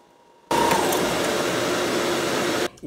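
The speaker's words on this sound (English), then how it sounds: "I do have my dust collector, or my shop vac, hooked up to it, so it's going to kick on." A shop vac serving as a woodturning dust collector kicks on abruptly, a loud steady whine that runs for about two seconds and then cuts off.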